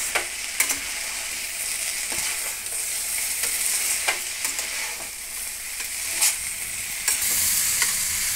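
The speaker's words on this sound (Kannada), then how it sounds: "ಹೀಗೆ ಫ್ರೈ ಮಾಡೋಣ ಇವಾಗ." Ladies finger (okra) fries over high flame in a pan and is stirred, giving a continuous close sizzle broken by repeated scraping and clinking stirring strokes, with no voices.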